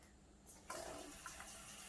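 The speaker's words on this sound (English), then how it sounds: "First, I'm going to fill this cup with some water." Tap water pours into a cup for a lollipop experiment, starting with a sudden splashing gush and continuing as a soft, even stream at low volume with no speech.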